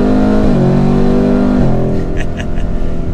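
Car V8 engine revving hard and holding high RPM in sport mode, pitch stepping down through downshifts, loud and close inside the cabin.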